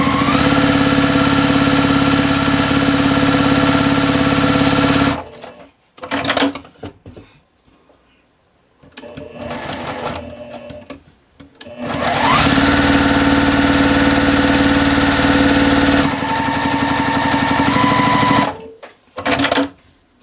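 A sewing machine stitches quilt block seams in steady whirring runs, stopping and restarting several times with brief quiet gaps between bursts, loud and close.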